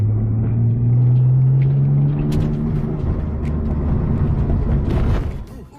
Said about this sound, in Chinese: 现在的排气声听着属实要比原先的更带劲些